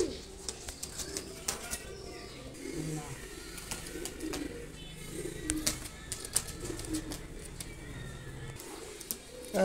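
Pigeons coo softly in the background amid scattered clicks, scuffles and wing flutters, with a voice speaking intermittently over the birds.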